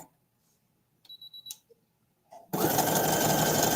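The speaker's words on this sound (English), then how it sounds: "And now we are all done sewing this part down." A sewing machine stitching fabric, a few short bursts of stitching and clicks, then a loud, steady run of rapid stitching that continues to the end.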